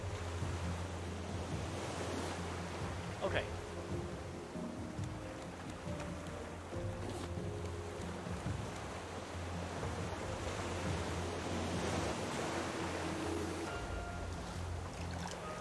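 Stormy ocean waves in the video game Raft surge and wash in a continuous broad roar with gusting wind, moderately loud and unbroken, under a single brief spoken word.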